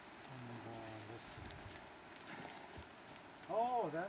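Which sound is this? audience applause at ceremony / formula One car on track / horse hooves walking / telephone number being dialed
horse hooves walking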